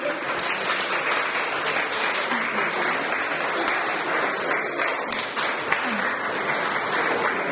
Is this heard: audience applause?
yes